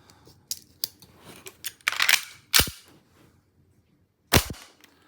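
A WE SIG Sauer P229 airsoft gas pistol fires BBs in a few sharp, snappy cracks spaced irregularly, close and loud, with faint clicks and handling noises between the shots.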